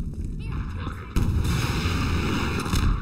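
A rocket launcher fires in the video game Half-Life, one heavy booming launch and blast breaking out partway through over continuous game ambience and music, loud and full.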